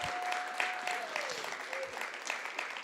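Audience applause at a Park City festival, a steady, moderately distant wash of clapping that lasts the whole stretch, with a whistle and some voices mixed in.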